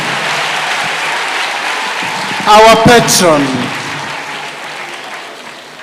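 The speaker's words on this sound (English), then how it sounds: "Can we give another round of applause to Her Excellency," An indoor crowd at a Girl Guides centenary celebration claps in steady applause, with a voice speaking briefly over it.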